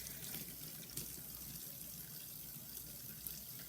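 Running tap water splashes steadily over Xbox 360 console parts being rinsed in a sink, a continuous close hiss of flowing water with a few brief louder splashes.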